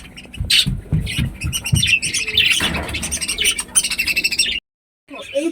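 Budgerigars squawk and chatter in a dense, continuous flock of sharp, high chirps close by, with a brief silent gap near the end before the chatter resumes.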